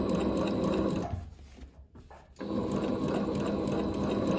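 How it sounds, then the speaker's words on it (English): A sewing machine stitches a pocket-side seam on a pair of shirred-waist pants, its rapid mechanical whirring loud and close, breaking off for about a second mid-clip before resuming at full speed. "I'm just stitching on the pocket side"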